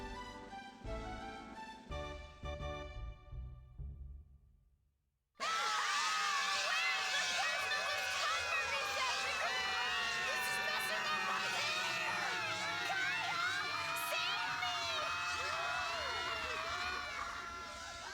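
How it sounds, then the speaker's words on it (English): A character's loud, sudden scream in the video game Lunar: Silver Star Story bursts in after a brief silence, a sustained shrill wail layered over game music that runs to the end. "Why is Null screaming?"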